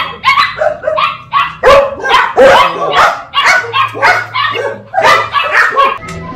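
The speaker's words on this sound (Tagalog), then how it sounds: "Daming tuta." Belgian Malinois puppies bark and yip in quick, close, overlapping bursts, high-pitched and loud, with whiny yelps mixed into the chorus.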